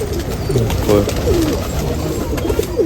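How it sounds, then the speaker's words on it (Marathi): Pigeons coo repeatedly, soft throaty warbling calls close by, over a busy, steady background hum, in Shinde village, Nashik. "थोडा जुना कबूतर आहे"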